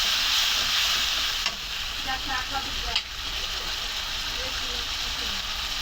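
Oil, onion, green chilies and turmeric fry in a pan with a steady loud sizzle and hiss throughout, while a few soft stirring knocks sound near the start and middle.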